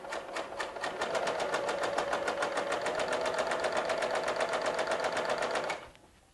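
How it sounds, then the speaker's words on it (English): A sewing machine runs steadily, stitching quilting fabric with a fast, even mechanical whir and needle chatter for several seconds before it stops abruptly. It sounds close, with no talking. "I'm going to stitch all the way down to the end"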